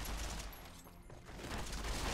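Sustained gunfire in a Fallout: New Vegas firefight, a dense, continuous crackle of rapid shots at moderate volume with no pauses and no voices.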